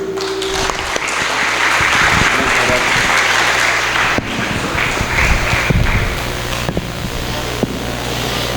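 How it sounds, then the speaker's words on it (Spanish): A crowd at a religious talk claps in sustained, steady applause that fills several seconds without a break. "Recibámoslo con un aplauso"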